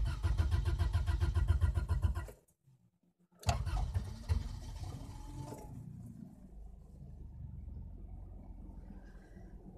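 A car engine cranks with a rapid chugging starter, falls briefly silent, then catches and settles into a quieter steady idle, heard close by and alone.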